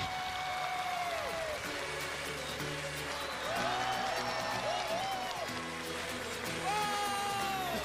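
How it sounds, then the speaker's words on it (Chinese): Studio audience at a Chinese television show applauding and cheering to welcome Brazilian footballer Roberto Carlos, a steady wash of clapping sustained across the whole stretch with music and bright tones layered on top. "让我们用最热烈的掌声、欢呼声，请出我们今天的神秘嘉宾——著名足球运动员卡洛斯。"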